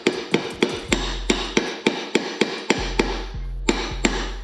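A hammer delivers a steady series of about a dozen sharp metallic taps on a drive pulley being fitted to a Toro mower, close and distinct with brief ringing after each blow.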